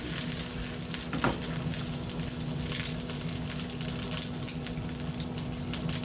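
A flipped egg fries steadily in a pan, a continuous close crackling sizzle with a brief scrape near the start.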